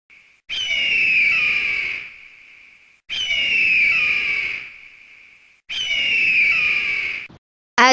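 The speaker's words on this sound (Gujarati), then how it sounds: "ગરુડનો અવાજ સાંભળજો" An eagle call: three long, loud shrill screeching cries with a steady high whistle between them, evenly spaced and heard alone, with a short burst at the very end.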